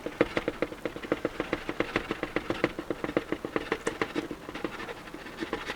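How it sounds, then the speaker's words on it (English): A tool stirs Jesmonite powder into its liquid in a mixing container, giving fast, rhythmic scraping and tapping strokes close by. The strokes repeat steadily for several seconds with no voices. "I'll add my powder to my liquid. And then I'll give it a good stir."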